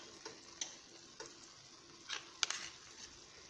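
Garlic, crushed together with ginger, sizzles quietly in a pan for a fasting dish, with a faint steady fry and several light ticking scrapes of the stirring utensil.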